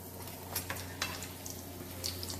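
Banana pancake frying in a pan and being turned with a spoon, a steady soft sizzle with a few light scraping clicks of the spoon, close and quiet with no talking.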